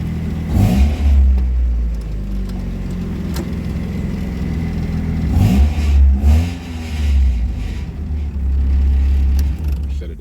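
A 1994 Mazda Miata with a past crank-no-start fault cranks briefly and fires, then its engine runs loudly up close with a couple of revs rising and falling over a steady idle.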